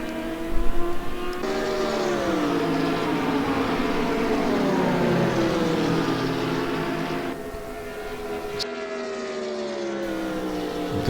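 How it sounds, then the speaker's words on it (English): Mercedes and Ferrari GT3 race cars at Paul Ricard in Assetto Corsa, loud engines roaring and shifting pitch as they accelerate and pass, a continuous close drone with gear changes. "The grunt of the Mercedes takes Peter past Simon, but the Ferrari's exquisite handling might even things up into turn 5."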